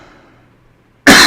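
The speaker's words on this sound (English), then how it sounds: "sorry about the cough" A single sharp, loud cough bursts out close up after a second of near silence.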